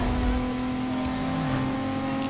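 Lexus with a 3.0 engine in Need for Speed Most Wanted, a steady loud engine drone with a strong constant pitch, holding and building as the car runs at speed.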